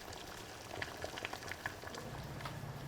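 Water boiling in a pot for blanching salted whale tail fin, a steady close bubbling and popping with small irregular bursts throughout, no voices.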